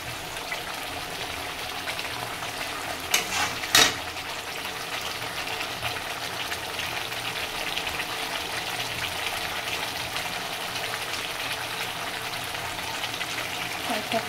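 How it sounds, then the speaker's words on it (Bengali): Spice paste sautéing in hot oil for a bhola fish dish with mustard paste and lemon leaves, a steady even sizzle that runs throughout, with a couple of brief clatters near the start. "মশলা প্রায় কষানো হয়ে গেছে"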